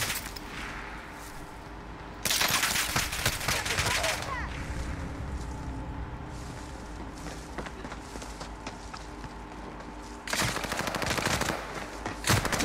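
Video game gunfire: dense bursts of rapid automatic shots in two long volleys, with steadier background shooting and in-game ambience in between, loud and close.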